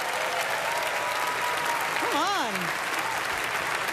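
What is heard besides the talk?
audience applause for Donald Trump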